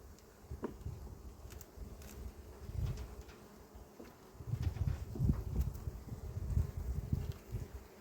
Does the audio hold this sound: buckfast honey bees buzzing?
yes